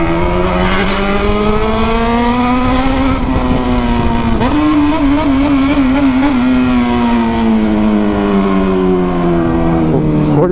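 A Honda Hornet motorcycle ridden hard, its engine screaming loud and close with a sustained high rev that wavers and stutters in the middle while carrying a passenger.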